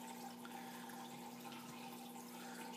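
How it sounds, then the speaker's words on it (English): Water running from a filter down into a barrel holding goldfish in a small aquaponic stand, a steady faint trickle and splash with a constant low hum beneath it, no voices. "you can see the water flowing into the bottom barrel where the fish are"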